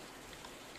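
Rain in the farming video game Farmer's Dynasty, a faint, even hiss of steady rainfall with no distinct drops or voices over the short stretch.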